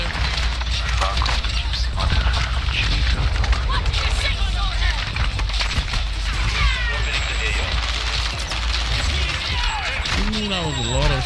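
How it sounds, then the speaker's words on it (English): Gunfire and explosions in a Call of Duty match, a dense barrage of shots and heavy booms running throughout, with voices talking over the battle noise. "That was a lot of shots."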